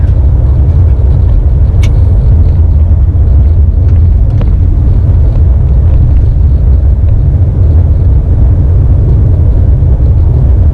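Steady, loud road rumble and engine drone fill the cabin of a 2019 Subaru Crosstrek with its boxer engine cruising at highway speed, broken only by a faint click or two.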